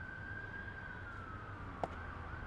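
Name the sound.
ambulance siren going by a baseball stadium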